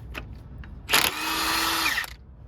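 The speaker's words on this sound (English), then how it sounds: "Use the shortest socket you have in your box to take those off." A power tool spins a short socket on rounded flywheel bolts during a junkyard B18 transmission removal, giving one loud, close whirring burst of about a second, with a few clicks before and after.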